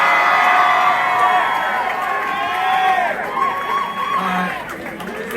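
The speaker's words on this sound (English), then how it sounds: "Team Avalon makes some noise." A crowd at a live boxing event in Glen Burnie, Maryland cheers and whoops loudly, a sustained roar of many voices with shouts rising and falling.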